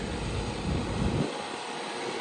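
A John Deere 4x4 tractor engine works hard pulling a 19-tine cultivator, a loud, steady broadband roar with heavy low rumble that thins out partway through as the engine note drops.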